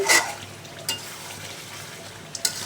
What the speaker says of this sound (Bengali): মাংসটা নেড়ে দেই দেখো মাংস থেকে তেল বেরিয়ে আসছে